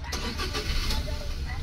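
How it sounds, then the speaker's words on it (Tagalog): A Suzuki DA17V van with an R06 engine cranks and starts, a brief mid-pitched engine sound settling toward idle, fairly quiet and close. "engine start."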